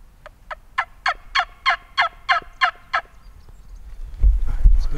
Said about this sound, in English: the gobbler chased the jakes off